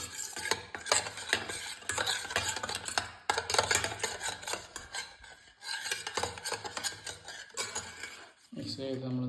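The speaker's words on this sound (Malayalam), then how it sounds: "ശേഷം നമ്മൾ ഒരു സ്പൂൺ എടുത്തുകൊണ്ട് നല്ലവണ്ണം മിക്സ് ചെയ്യാണ്" A spoon stirs soup powder into water for vegetable chilli soup, making loud, close, continuous scraping and rasping strokes in repeated bursts that end abruptly near the finish.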